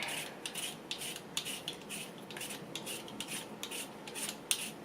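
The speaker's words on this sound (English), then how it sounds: "we're going to start peeling these potatoes" Potatoes being peeled for homemade enchiladas rojas give off repeated short scraping rasps in an uneven rhythm, close and fairly quiet, with no talking.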